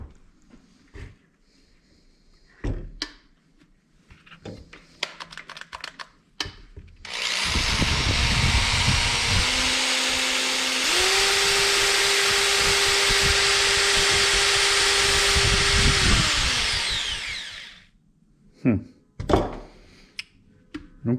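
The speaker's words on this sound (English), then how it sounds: "I got the drill plugged in. I'm gonna plug it in and give it a shot." An electric drill runs continuously for about ten seconds at a loud, steady whine, rising briefly to a higher speed partway through, with clicks and handling noises before and after and no talk.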